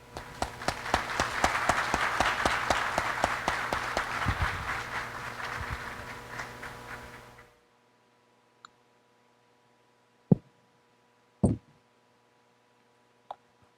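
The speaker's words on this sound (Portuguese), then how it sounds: "E recebemos com uma salva de palmas o nosso palestrante." A crowd at a talk applauds steadily for several seconds as the speaker is welcomed, then the clapping stops, leaving near silence broken by a few faint knocks and clicks.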